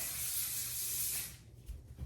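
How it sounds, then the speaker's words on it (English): Kenra hairspray is sprayed onto freshly curled hair in one continuous, close, fine aerosol hiss lasting over a second. It cuts off into quiet handling rustles. "I'm gonna take my Kenra hairspray and spray"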